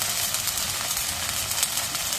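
Onion paste sizzling and frying in hot oil in a pan after bay leaf, a steady close hiss throughout with no talking.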